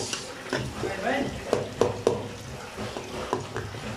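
Onions frying in a pan for beef biryani are stirred with a utensil, giving a soft continuous sizzle broken by several sharp scraping clinks at uneven intervals, close by.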